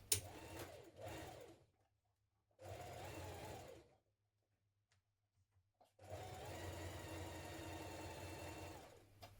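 A home sewing machine stitches the shoulder and underarm seams of a spring tunic top in three bursts, the longest near the end, with quiet pauses between.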